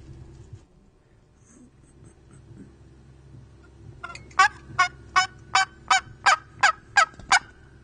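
A box call imitates a hen turkey with a run of about ten evenly spaced, raspy yelps in quick rhythm. The yelps are sharp and close and start after a few seconds of quiet outdoor background.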